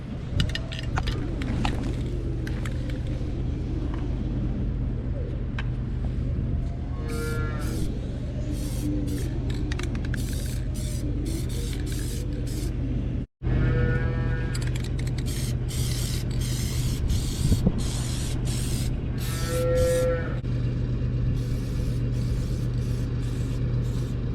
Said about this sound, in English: So I'm gonna quick spray paint that